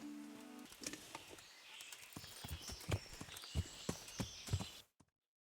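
A horse's hooves clip-clop at a walking pace in Kingdom Come Deliverance, a steady run of close, distinct hoof strikes on hard ground that cut off abruptly at the end, with no talk over them.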